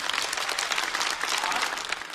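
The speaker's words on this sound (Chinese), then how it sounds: "再次把掌声送给元气满满的风心彤" A studio audience at a stand-up comedy show claps in a steady, dense burst of applause that fills the whole two seconds.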